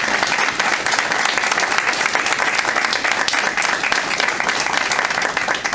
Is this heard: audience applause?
yes